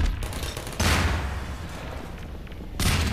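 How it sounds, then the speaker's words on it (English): A grenade goes off in Half-Life 2: a sudden loud burst fades into rumbling debris, and a second sharp blast erupts near the end, with no talking. "Throw a grenade in"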